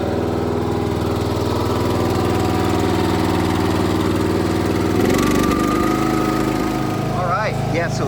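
A car engine runs after being revived with a Gooloo A3 jump starter, a loud steady idle hum with a shift in tone midway, and voices talk briefly near the end.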